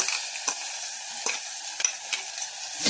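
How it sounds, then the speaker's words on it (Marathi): Crushed green chilli thecha, coarsely ground in a mixer, being sautéed in a pan with a spatula: soft steady sizzle under a series of sharp scraping stir strokes, close and fairly loud, no voices. "असा परतून घ्यायचा आहे कडक करून"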